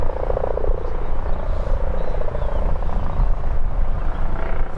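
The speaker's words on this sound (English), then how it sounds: "The police helicopter's now doing circuits by the airport" A police helicopter circles near Birmingham airport, its rotor a continuous throbbing chop with a steady low drone, loud and sustained throughout without voices.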